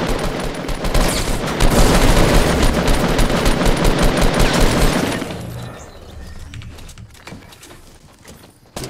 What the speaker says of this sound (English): That man has a shotgun!